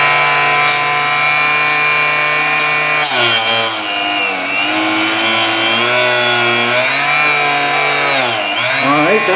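A Harbor Freight 2 inch mini chop saw runs loud and steady, its motor note dropping and wavering as the blade bites into hand-held stock, with the pitch sagging several times under load.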